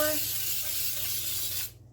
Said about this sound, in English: I'm going to give them a quick spray with baking spray